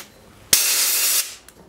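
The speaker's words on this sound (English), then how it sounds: "so the good old brake cleaner again, spray it in there" Aerosol brake cleaner sprayed into bicycle brakes, one loud, close hissing burst of under a second, starting and stopping sharply.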